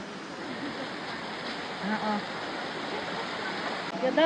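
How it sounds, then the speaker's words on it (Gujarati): Cold mountain stream water flowing steadily, a continuous broadband rush at moderate level with a slight swell near the middle, heard outdoors on a green roadside with no talk over it. "ઠંડુ ના ઝરણા તો જો કેવા સરસ જાય છે"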